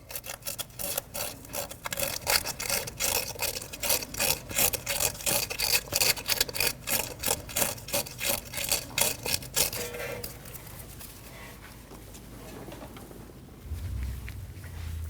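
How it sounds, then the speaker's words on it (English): Sandpaper rubbing back and forth on the sensor bore surface of a 2013-2019 Ford Escape's rear ABS wheel speed sensor mount, a steady rhythmic rasping of about a dozen quick strokes, close and loud, then stopping. "You can use a bore tool like this. And a piece of sandpaper for your flat surface."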